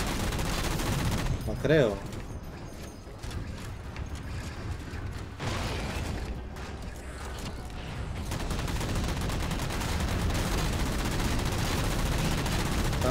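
Gunfire in the video game Halo 4: repeated bursts of shots and mechanical clanks, steady and fairly loud, with someone speaking briefly in between.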